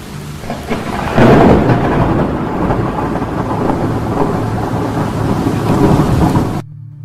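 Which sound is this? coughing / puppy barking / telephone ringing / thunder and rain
thunder and rain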